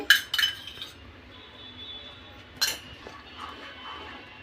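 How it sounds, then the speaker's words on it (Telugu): A spoon scrapes and clinks against a pan while stirring carrot halwa cooked with ghee, two short clusters of metallic clatter separated by a quiet simmering gap, close and fairly soft. "ఈ సిమ్లో పెట్టుకొని నిదానంగా కలుపుతూనే ఉండాలండి"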